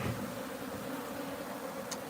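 Bees from a wild beehive buzz steadily at close range while the hive is being moved to a new home, a dense continuous hum with no voices.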